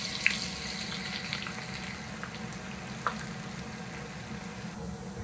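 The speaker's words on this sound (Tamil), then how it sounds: "ஃபுல் சூட்டில் வைங்க, அப்போதான் ஆனியன் நல்லா ஃப்ரை ஆகி வரும்" Onions sizzle in hot oil over full heat, a steady crackling fry with scattered pops and occasional stirring clicks, close and continuous.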